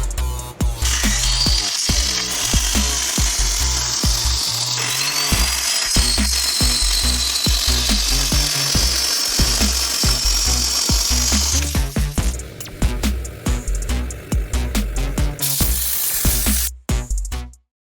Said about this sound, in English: here I am cutting out some 3-inch diameter holes in each plate